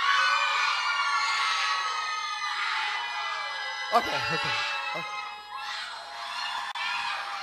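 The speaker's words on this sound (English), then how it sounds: "If you're at camp, just give a big scream right now." A big camp crowd screams and cheers in a sustained, loud burst with whoops and yells, fading briefly before swelling again, while a voice speaks over it.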